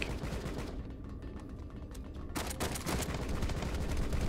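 Automatic shotgun fire in the video game Rocketbirds 2 Evolution, a rapid fusillade of blasts that grows denser and louder after a brief lull, with no talking.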